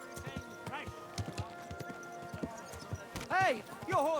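Horse hooves clip-clopping in the medieval video game Kingdom Come: Deliverance II, a quick irregular run of sharp knocks, with characters shouting and talking over and after them.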